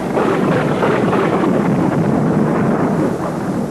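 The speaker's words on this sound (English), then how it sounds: "the wild terrain naturally attracts thunderstorms" A thunderstorm over the wild terrain at Colorado Springs on the edge of the Rockies, heard as a loud, continuous low rumble and roar with a windy, gusting hiss throughout, no voices.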